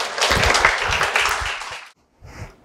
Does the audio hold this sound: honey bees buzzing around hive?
no